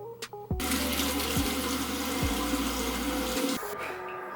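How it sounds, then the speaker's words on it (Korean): Tap water runs into a bathroom sink during face washing, a steady rushing stream that starts abruptly, carries on for about three seconds, then cuts off. "저 같은 경우는 얼굴은 딱 세면대에서 씻고 그 다음에 샤워를 하는 편이라서"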